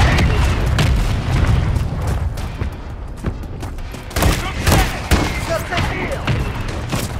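Artillery explosions and gunfire in the video game Call of Duty Modern Warfare 3, a continuous barrage of heavy booms and rapid shots, with several louder blasts standing out near the middle.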